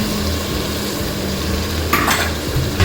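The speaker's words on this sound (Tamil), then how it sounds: "தக்காளியும் சேர்த்து நல்லா செஞ்சு வைக்கணும் இப்படி கொஞ்ச நேரம் அந்த தக்காளியெல்லாம் வதங்கட்டும்" Tomatoes and mixed vegetables sautéing in a pan for vegetable rice, giving a steady close sizzle with a brief scraping stir near the end, no voices.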